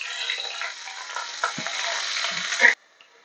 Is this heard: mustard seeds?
yes